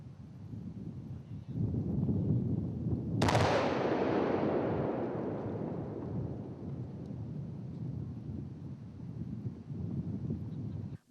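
Cars packed with improvised explosive devices blow up in a sharp, powerful explosion that bursts suddenly, then rumbles and fades slowly into a long wash of noise, heard from a moderate distance in the open air.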